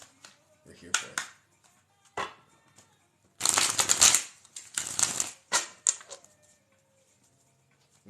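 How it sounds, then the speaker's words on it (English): A deck of tarot cards being shuffled in bursts of rapid riffling and flicking, close and crisp, separated by short pauses and quiet taps, with no talking over the cards. "we're going to keep shuffling"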